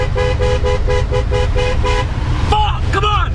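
A car approaching on a road with a loud, repeated horn tooting in a steady pulsing rhythm, close by, followed by a sharp shouted voice near the end.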